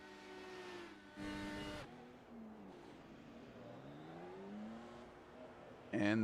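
A race car in the iRacing sim rises in pitch as it accelerates out of the pit lane during an IndyCar league race at Kentucky, the engine note sweeping upward beneath a background hum with brief louder bursts.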